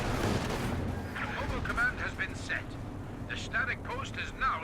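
Artillery barrage in Company of Heroes 2, with rumbling explosions and booms under continuous commentary talk from a narrator.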